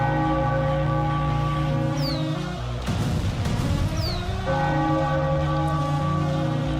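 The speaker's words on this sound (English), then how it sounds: "Ring the bell, the Philadelphia Phillies win." A bell rung after a Philadelphia Phillies win over the Tampa Bay Rays at a baseball game, loud resonant tolling strikes layered in a dense broadcast mix with no talk.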